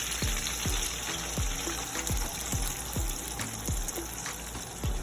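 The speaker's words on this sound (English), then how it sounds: "I'm gonna pour this veggie stock up and through here." Vegetable stock pours into a cooking pan in a quiet, steady trickling stream, with faint repeated taps and clinks from the pan along the way and no talk.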